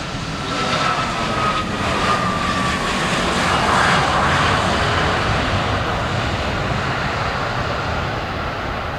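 An Airbus A320 airliner landing on runway 07 gives a loud, continuous jet roar that stays close and steady throughout, with a faint whining tone fading early on and no speech.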